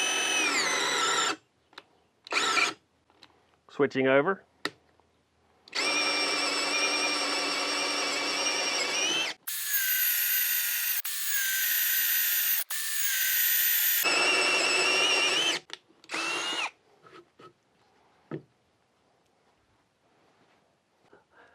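A Hyper Tough cordless drill whines at high speed in several long bursts separated by short pauses, loud and close, with a few brief clicks and a short spoken remark.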